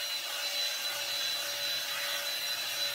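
A Revlon blow dry brush runs steadily while drying hair, a continuous close motor whir with rushing airflow and no pauses.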